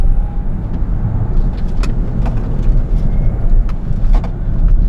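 An electric Kia EV6 GT sports car of about 2.2 tonnes takes a corner on a winding road, with steady low road and tire rumble and a faint motor whine that stay even and close throughout.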